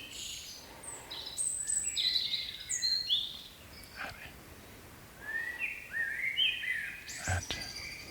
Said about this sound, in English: imagine you can hear those birds singing in the trees